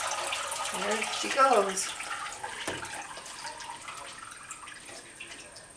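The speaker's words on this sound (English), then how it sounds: "So now the bowl is filling up with water" Tap water runs into a bowl at close range, a soft continuous splash under a short spoken remark, fading toward quieter trickling.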